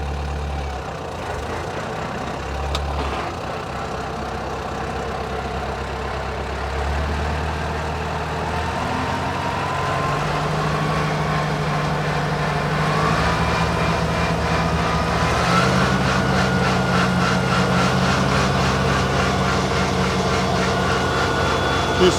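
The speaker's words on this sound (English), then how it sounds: "Right, engage me PTO." Tractor with its PTO engaged driving a disc mower, a loud steady engine drone joined by the mower's rising whirring hum as it spins up, continuous and close for the whole stretch, no talking.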